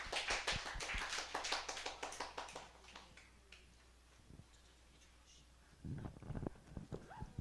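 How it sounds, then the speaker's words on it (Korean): Church congregation clapping to welcome a child forward, a run of distinct, fairly quick individual claps that thin out and fade to quiet, then a short louder burst of sound near the end, all at a low level. "박수로 환영해 주시기를 부탁드립니다"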